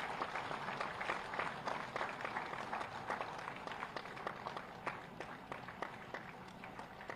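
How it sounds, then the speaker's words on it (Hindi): Faint applause from an audience at a teachers' day award ceremony honouring state teacher award winners, soft distant clapping with a few sharper claps standing out, steady throughout. "तालियां बजती रहें तो कितना अच्छा लगे।"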